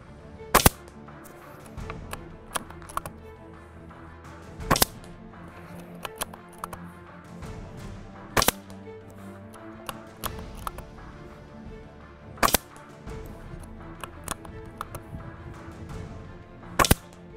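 BSA R-10 MK2 .22 PCP air rifle firing JSB 18 grain pellets at a range, five sharp cracks spaced a few seconds apart over a low background hum, with faint handling clicks between shots.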